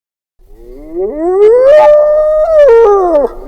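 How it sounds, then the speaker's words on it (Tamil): A hyena lets out a single loud, rising and falling whooping call lasting a few seconds, close and alone with no talk. "கழுதைப்புலி"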